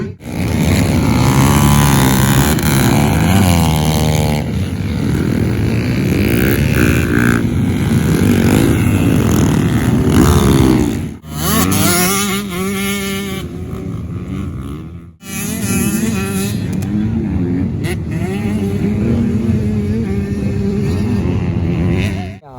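Several motorcycles idle and rev loudly at close range before a Sunday bike race, engines droning steadily throughout with brief dips, while voices talk over the noise.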